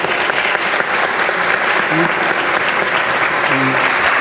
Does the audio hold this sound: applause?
yes